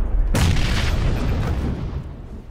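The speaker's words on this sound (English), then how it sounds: "I can throw some nades back up at him." A single heavy grenade blast booms in PUBG, sudden and loud, then rumbles away over about two seconds.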